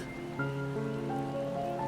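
Steady rain in the Final Fantasy XIV: Dawntrail video game world, a soft continuous patter over wet ground blended with sustained tonal music throughout.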